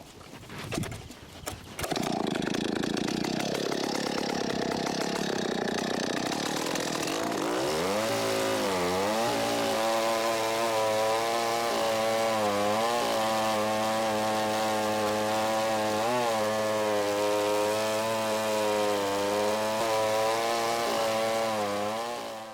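A chainsaw starts with a few pulls, then roars steadily and loudly for a long stretch while cutting tree limbs, its engine pitch wavering slightly as it cuts.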